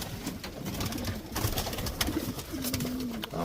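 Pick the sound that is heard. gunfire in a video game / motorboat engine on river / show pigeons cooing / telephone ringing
show pigeons cooing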